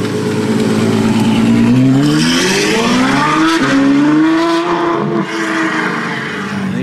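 A Ferrari 812 Superfast with a Novitec exhaust roars loudly up close, its engine note climbing and swelling through sustained revs before dipping slightly and carrying on strong.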